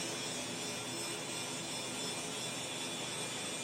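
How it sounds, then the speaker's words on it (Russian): A tractor works at a large street trench dig in Yakutsk, giving a steady, distant broadband engine drone with no speech over it. "Там он трактор работает."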